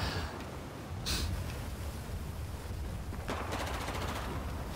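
Battlefield 4 combat with rapid bursts of gunfire over a constant rumbling battlefield din during a Prison Break match, tank fighting nearby, crackling shots fairly close and mixed into heavy background noise.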